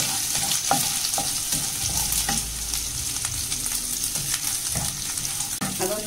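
Ginger garlic paste sautéing in hot oil for a mushroom roast, a steady close sizzle broken by repeated scraping and tapping of a spoon against the pan.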